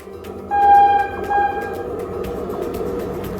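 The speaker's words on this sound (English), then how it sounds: "Let's hop on to the number train." A cartoon-style train whistle from a children's counting song sounds in two steady, bright blasts, a longer one followed by a shorter one, over a busy music bed.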